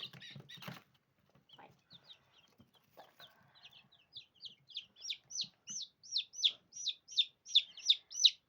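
Young chicks and chickens, with a few low clucks at first, then a run of high, rising peeps that repeat faster and grow louder toward the end, close by with no talking.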